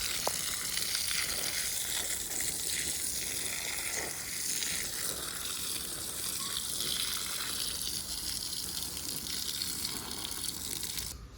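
Water rushes and splashes in a steady continuous stream, constant and moderately loud, with no talking.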